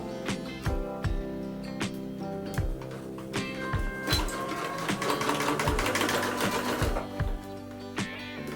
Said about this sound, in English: Then we would have to sew using a 1 centimeter seam allowance.